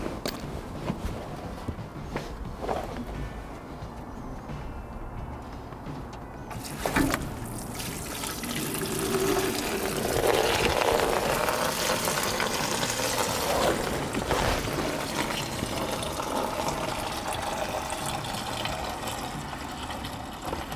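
Watery coolant with no dye drains out of an engine once a 5/8 bolt is undone, a steady close trickle and splatter that swells into a fuller gush partway through and carries on alone.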